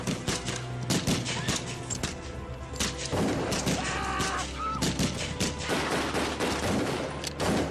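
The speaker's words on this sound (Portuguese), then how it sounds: "E foi então que eu ouvi os disparos." Rapid bursts of gunfire crackle continuously near a small plane, loud and close, with heavy thuds and overlapping shots filling the whole stretch.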